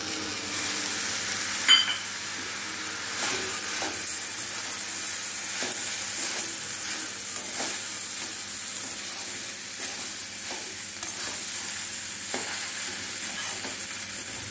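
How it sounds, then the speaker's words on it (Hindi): Chopped tomato is stirred into sabudana khichdi cooking in a pan: a long, steady soft sizzle and hiss with repeated light scraping strokes of a spoon, one sharper clink early on. "अब इसमें हम टमाटर जो कटा हुआ था उसको मिक्स"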